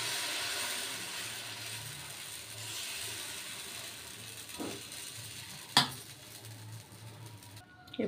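A pan set on a stove for wheat-flour dosa, with a soft steady sizzle and kitchen noise throughout, a light metallic knock, one sharp clank of metal near the middle and a brief clatter at the end; no talking.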